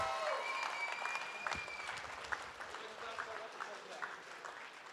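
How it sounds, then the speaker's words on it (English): A crowd at a charity fundraising auction applauds steadily, a dense patter of many hands clapping at once, with some voices mixed in throughout. "big round of applause"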